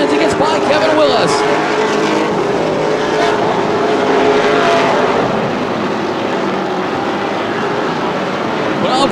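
Several race cars running nose to tail around the quarter-mile Anderson Speedway oval in Indiana during a CRA All Stars Tour race, a loud continuous engine roar throughout with a commentator talking over it.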